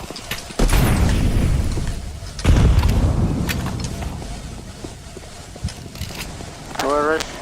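Two heavy grenade blasts in a shooter game, a sharp booming explosion followed a couple of seconds later by another, each trailing off into rumble, with a voice talking at the end.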